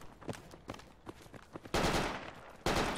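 Gunfire in Project Reality on the Grozny City map: scattered single shots and short bursts at first, then two loud sustained blasts of fire close by, fairly quiet overall.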